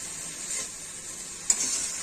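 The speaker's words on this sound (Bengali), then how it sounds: "এবার সবগুলো আলু পটল সব একসঙ্গে ছেড়ে দিলাম" Potatoes and pointed gourd frying together in a pan of hot oil for a curry give a steady, close sizzle, with a brief clatter of stirring near the end.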